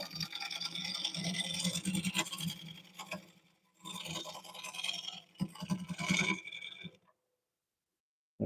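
A woodturning lathe cuts a wooden burl bowl, the tool scraping and chattering in rough bursts with brief pauses, close and moderately loud, before stopping into near silence at the end.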